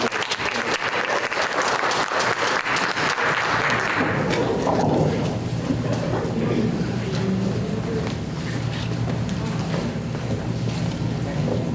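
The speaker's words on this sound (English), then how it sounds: "give them a round of applause if we can" Audience applause fills a downtown housing development community meeting, a steady wash of many hands clapping close by that thins and softens after a few seconds, with voices murmuring underneath.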